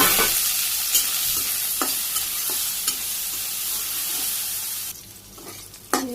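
Soybeans coated in turmeric, chili and salt fry in hot oil in a wok over a clay stove, a loud steady sizzle with occasional scraping stir strokes, then the hiss drops sharply near the end.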